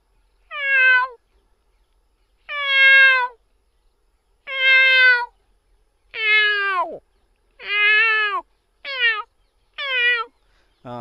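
A man mimics cat meows with his voice, giving seven separate drawn-out, harmonic-rich calls in an even rhythm, close and clear with silence between them, the last ones sliding down into a lower, moaning tone.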